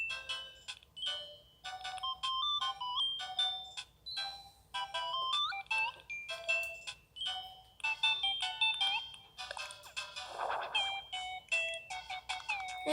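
A song plays in Animal Crossing: New Horizons as a quiet, bright synth melody of short plucked notes with a soft low backing, steady and continuous throughout.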